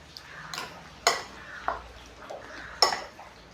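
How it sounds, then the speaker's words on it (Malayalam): A spoon stirs chicken marinade with cornflour and maida in a bowl for kanthari green chili chicken, giving a few sharp clinks against the bowl amid soft scraping and mixing noise. "എന്നിട്ട് വീണ്ടും അത് നല്ലപോലെ ഇളക്കി യോജിപ്പിച്ച്"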